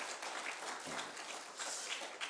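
A church congregation claps together in a dense, continuous patter of applause that sounds somewhat distant and soft.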